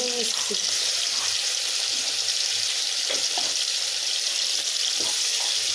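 Chicken bones fry in oil in a pan with a dense, continuous close sizzle and crackle, steady in level throughout, and a few faint knocks in the background.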